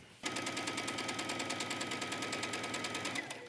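A sewing machine runs a straight line of stitching, a fast, even mechanical chatter of rapid needle strokes up close, starting sharply and stopping after about three seconds.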